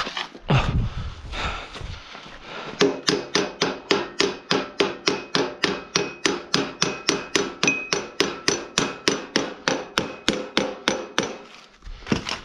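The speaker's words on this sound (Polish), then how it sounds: "Młotek." Repeated hammer blows ring on metal during a lawnmower repair, about thirty sharp strikes in a steady, even rhythm, loud and close, after a few scattered knocks and handling sounds.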